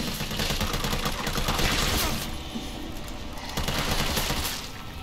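Rapid gunfire in the video game Resident Evil 3 Remake, a dense, continuous volley of shots with no pauses, loud and up close.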